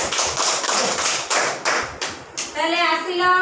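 Children clapping hands during a classroom body-parts activity, a run of sharp, irregular claps close by, followed by a voice speaking and singing at the end.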